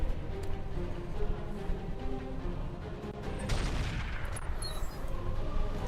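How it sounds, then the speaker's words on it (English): Artillery thumper on a spider mech in the Roguetech game fires repeatedly in a continuous stream of dull thuds amid battle noise, with a sharper burst near the middle and no voices. "That's still the artillery thumper of the spider, keeps doing its thing"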